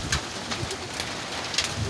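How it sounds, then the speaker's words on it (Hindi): Heavy, fast rain pours down outdoors, water streaming off plants, a steady broadband hiss of drops hitting surfaces that holds at an even level for the whole span, with no voices over it. "पौधों से पानी गिर रहा है और ये बारिश बहुत तेज़ है"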